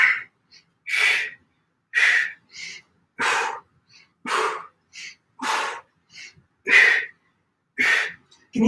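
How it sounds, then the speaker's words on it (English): Heavy, forceful breaths during a yoga-inspired strength workout come in about a dozen close, loud bursts, evenly spaced with short silences between each inhale and exhale. "Can you hear my breathing?"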